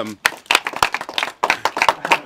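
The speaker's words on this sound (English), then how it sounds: "Give yourself a round of applause" A football team at a playoff quarter-final clapping for themselves: a small group's close, uneven claps in bursts with short gaps, loud and crisp, alongside speech.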